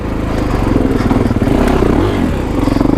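A 2021 Kawasaki KX450X 450 dirt bike revs hard on technical single track, its engine loud and close, surging and dropping continuously with clattering chassis noise.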